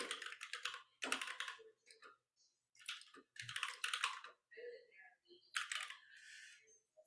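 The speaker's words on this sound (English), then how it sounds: "So I can double click and then start typing." Bursts of rapid typing on a computer keyboard, close and clicky, broken by short pauses, with a few softer clicks between runs.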